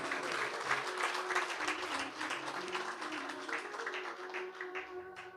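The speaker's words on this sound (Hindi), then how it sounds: "आइए आपके लिए मैं ताली बजाता हूं।" Devotees clapping at a Bhagwat Katha religious gathering in Nagpur, a dense, even applause heard from some distance that tapers slightly toward the end.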